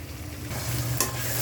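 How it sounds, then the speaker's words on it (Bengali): Fish pieces go into spice paste frying in a pan, a close steady sizzle with a brief sharp clatter midway as they are added, then continued frying hiss. "আমি এখানে মাছগুলো অ্যাড করে দিব।"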